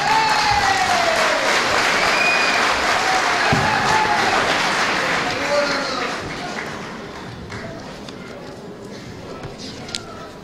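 Applause at a political party congress as people are welcomed to the stage, loud at first with whistles and cheering, then tapering off with voices and shuffling in the crowd.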